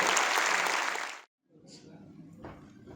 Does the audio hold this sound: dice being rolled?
no